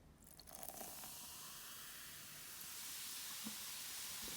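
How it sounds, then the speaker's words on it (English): Blue vinegar poured into red baking soda fizzes with a soft, rising hiss after a brief pour, settling into a faint, steady effervescent crackle. "Now I'm gonna pour the blue vinegar inside the red baking soda."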